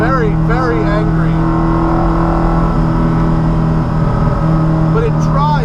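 A Porsche Cayman fitted with a Coyote V8 drones loud and steady from inside the cabin while driving, a low constant engine hum with tonal whine under a voice.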